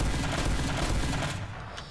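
Rapid volley of shotgun blasts from the Panic Attack in Team Fortress 2, four loaded shells released in a loud, continuous booming burst that fades over the last half second.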